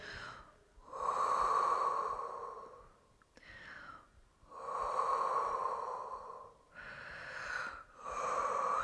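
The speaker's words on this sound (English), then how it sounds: "breathing through it." Slow, deep breathing during a trigger point and myofascial release with a ball on the hip flexor, with three long, audible breaths that rise and fall in a steady rhythm, close to the microphone, with no talking.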